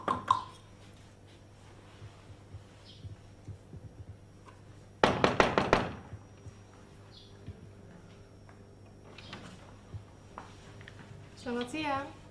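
A fast burst of loud, close knocks on a door, lasting about a second against quiet room tone, with faint voices before and after.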